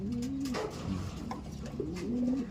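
A pigeon coos softly in low, rolling calls, repeated a few times against a quiet background.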